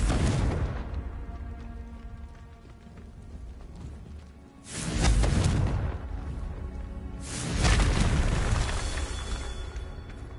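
Confringo blasting spell in Hogwarts Legacy, producing two loud explosive booms a few seconds apart, each with a rumbling, crackling tail over a steady noisy background.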